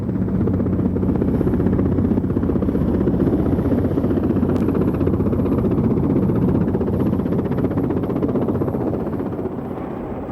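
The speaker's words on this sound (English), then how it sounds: "the Westland Wessex helicopter was fitted with a Napier Gazelle engine" A Westland Wessex helicopter with a Napier Gazelle engine thunders continuously with a dense, steady rotor and turbine roar, loud and close throughout before easing slightly at the end.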